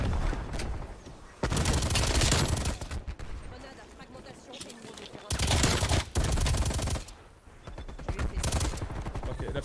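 Bursts of machine gun fire in the video game Call of Duty Warzone, loud rapid volleys in several long strings separated by short pauses, with speech mixed in.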